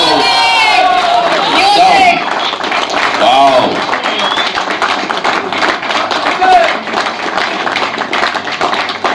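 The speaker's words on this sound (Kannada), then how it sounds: "ಜೋರಾಗಿ ಚಪ್ಪಾಳೆ ಬರಲಿ" A crowd at the opening of a Karnataka choreographers' cricket league claps and cheers loudly, a dense burst of applause with shouts and whoops, while a voice exclaims over it.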